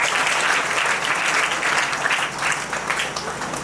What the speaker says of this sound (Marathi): लोंढे सरांसाठी एकदा जोरदार टाळ्या वाजवा